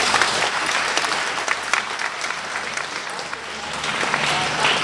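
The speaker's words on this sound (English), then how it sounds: "Please give KBT a clap." Children and adults at a school award assembly clap together in a steady, fairly loud round of applause that holds throughout.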